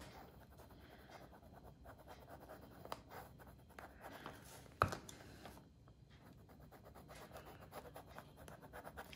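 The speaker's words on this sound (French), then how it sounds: "Vous changez de stylet en fonction de ce que vous avez embossé." A stylus embossing vellum paper for a handmade baby card, producing a soft, steady scratching and rubbing close by with one sharp tap partway through; no one speaks.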